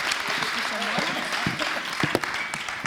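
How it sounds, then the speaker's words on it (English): Warm audience applause at a documentary talk event, a dense, steady wash of clapping filling the room with a few voices mixed in underneath. "So give them a warm applause"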